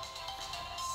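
A phone ringtone chirps in a repeating electronic pattern, steady and fairly loud, with no talking over it.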